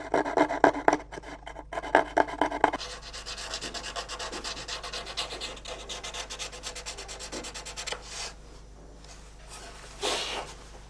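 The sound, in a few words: hand-held saw blade cutting violin f-holes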